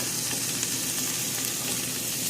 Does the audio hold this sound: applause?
no